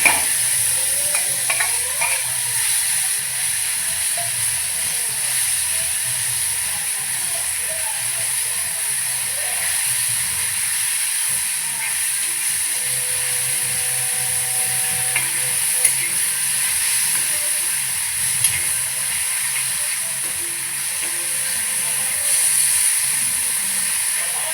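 Mustard seeds and cumin sizzle and crackle in hot oil on a flat pan with mashed ridge gourd bharit, a steady frying hiss running throughout with scattered pops and occasional stirring scrapes.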